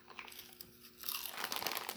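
A ceiling-fan snack is bitten and chewed close to the mic, a few quiet crunches giving way to louder, denser crinkly chewing.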